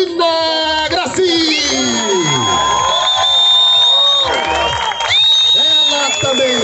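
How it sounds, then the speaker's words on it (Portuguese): At an ultramarathon award ceremony in Brazil, a crowd cheers loudly with whoops and shrill calls rising and falling, and a voice speaks over the noise. "Uma salva de palmas para Angelina Grassi."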